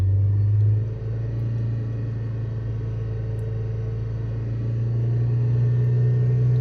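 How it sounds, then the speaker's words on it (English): Car engine with a small intake leak revved slowly during a leak test, a steady low rumbling hum that dips briefly then holds and gently rises, close and continuous, with no talking. "So we'll just rev it up nice and slowly, give it time to react."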